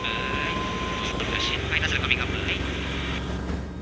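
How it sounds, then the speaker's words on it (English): A heavy Osprey tiltrotor aircraft roars steadily up close while landing in helicopter mode, a deep rumbling drone with a whining tone, loud and continuous. "the aircraft transitioned from airplane mode to helicopter mode for landing"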